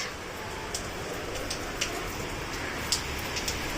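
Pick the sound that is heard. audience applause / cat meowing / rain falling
rain falling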